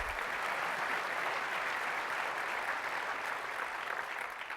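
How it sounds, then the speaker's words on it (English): An audience at the WWDC 2008 keynote breaks into steady, sustained applause that fills the hall evenly from start to finish. "You can clap, it's okay."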